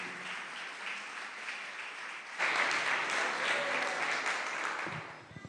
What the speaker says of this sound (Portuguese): Uma salva de palmas pela graça de ver o irmão aqui.